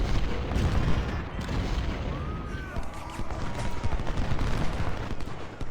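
Continuous artillery and musket gunfire from a Civil War battle in the strategy game Ultimate General: Civil War, a dense, steady rumble of overlapping shots and booms with no distinct pauses.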